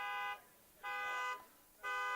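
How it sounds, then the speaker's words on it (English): A car alarm behind a youth baseball park at night repeats a steady electronic tone in bursts of about half a second, with pauses between them, at a moderate distance and clear over quiet background. "And we've got a car alarm going off behind us."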